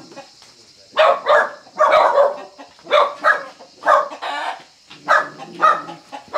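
Black chickens cluck and cackle in repeated bursts on a farm, joined by a dog's barks, the sounds close and fairly loud with short pauses between, while a faint voice murmurs in the background.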